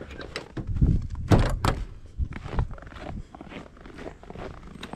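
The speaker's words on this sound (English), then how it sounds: "door shut." A door shuts outdoors in frigid winter weather, a few heavy thuds and rattles amid shuffling and handling noise, with a voice talking over parts of it.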